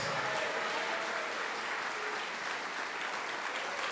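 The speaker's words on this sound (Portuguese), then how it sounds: "Vamos aplaudir mais." Applause from a church congregation fills the space, continuous and dense clapping at a steady level for several seconds, without talk over it.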